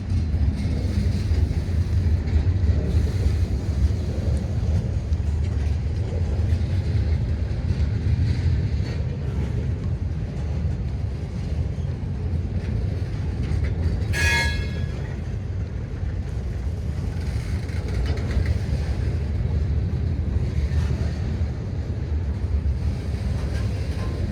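Freight train M324 on the NECR Swanton Subdivision, led by Wisconsin Central heritage locomotives, with a long string of cars rolling past in a continuous heavy rumble and one brief sharp wheel squeal partway through.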